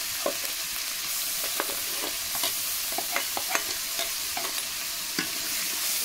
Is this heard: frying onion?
yes